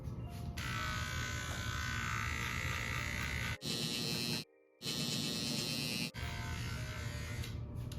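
Hair clippers with a 0.5 guard, lever fully open, buzz steadily through a bald fade, close and continuous, with two short breaks where the motor briefly stops before humming on again.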